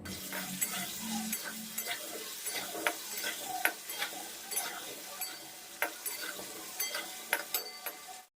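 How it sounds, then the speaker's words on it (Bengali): Steady sizzle of potatoes frying in a pan with salt and turmeric, with repeated scraping stirs and light clinks against the pan, close and continuous. "আমি একে একে আলুগুলো দিয়ে ভেজে নেব"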